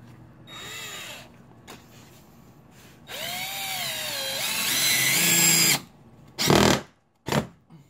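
Power drill driving a fastener, with several whirring bursts that rise and fall in pitch. The longest run comes mid-clip, followed by short stops and two quick final bursts.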